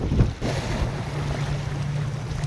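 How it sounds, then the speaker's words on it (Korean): Strong wind buffets a fishing boat at sea off Geumodo during autumn black sea bream fishing, a steady roar of wind noise over the low hum of the vessel and water, continuous with no talk. "야 바람 바람 바람"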